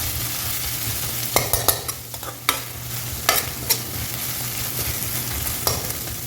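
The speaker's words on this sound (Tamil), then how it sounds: "இப்போ வந்து கடுகு மிக்ஸ் பண்ணிடுறேன் நண்பா." Mustard seeds frying in hot oil while being stirred, a constant crackling sizzle with a few sharp spoon scrapes and taps against the pan, near and clear, no speech.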